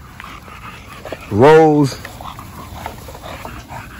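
A young puppy lets out a single rising, drawn-out whimper outdoors, loud and close, with someone talking around it.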